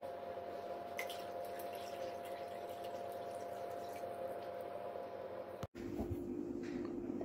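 Water pours in a steady, continuous stream onto a paper towel, then stops abruptly with a soft thud and a brief gap before faint trickling resumes.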